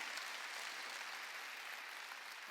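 A church congregation at a Sunday worship service claps steadily together, a continuous wash of applause that stays even and moderately quiet throughout.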